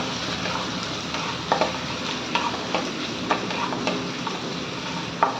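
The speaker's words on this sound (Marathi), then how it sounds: "कांदा परतून घेणार आहोत आपण." Onion sautéing in a pan for veg biryani, a steady close sizzle broken by repeated light scrapes and clinks of a spoon stirring.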